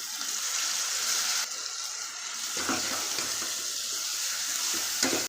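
About five finely chopped tomatoes go into well-cooked onions frying in a pan for a fenugreek kuzhambu, giving a loud, steady sizzle broken by bursts of stirring and scraping, no voices.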